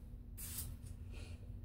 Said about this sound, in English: So I'm gonna spray it on the inside.